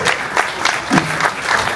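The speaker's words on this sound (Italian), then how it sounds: "Facciamo un grande applauso a Elisabetta e il suo meraviglioso bambino" Audience applause at a children's martial arts belt parade in Monteleone Roccadoria, a short burst of crowd clapping with a faint voice rising briefly beneath it.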